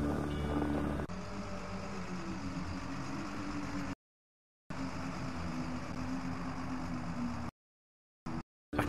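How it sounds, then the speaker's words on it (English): In the video game Lost Horizon, a truck engine rumbles and drones at low pitch, cut by abrupt gaps of silence and brief bursts, fairly faint with no voices. "Can you hear that? Sounds like an engine."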